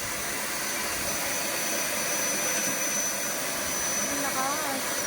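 Powerhouse vacuum cleaner runs continuously with a steady, loud whooshing motor whine and airflow hiss, unbroken throughout and with no talk over it.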